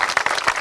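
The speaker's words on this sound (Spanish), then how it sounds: "Un aplauso para los productores y productoras" A crowd applauds producers at a Venezuelan community event, loud dense clapping heard up close in a brief burst.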